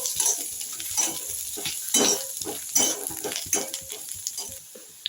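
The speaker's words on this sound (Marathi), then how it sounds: "आता खोबरं आणि लसूण हे चांगले ब्राऊन होऊ द्यायचं आपल्याला" Grated coconut and garlic frying in a pan while a utensil stirs and scrapes, soft sizzling under intermittent metallic scraping and clinks, close and moderately loud, fading toward the end.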